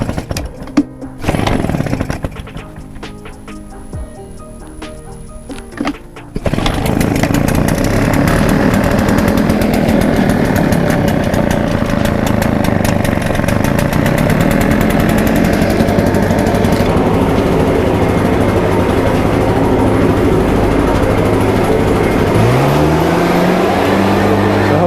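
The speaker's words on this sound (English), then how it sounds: "You guys can hear me over the blower. That thing's pretty loud." A Dewalt 60V Max blower roars loudly and continuously after a few seconds of quieter mechanical sound. The steady, droning blast holds at full volume to the end.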